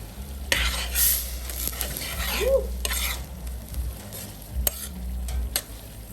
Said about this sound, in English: Put in the okra to get up some of that flavor